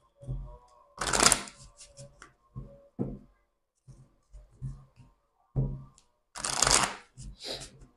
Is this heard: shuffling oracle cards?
yes